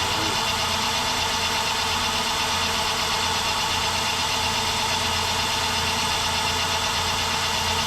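A Myford ML7 lathe running steadily while a boring bar cuts, giving a constant close mechanical hum and rumble with no breaks and no talk.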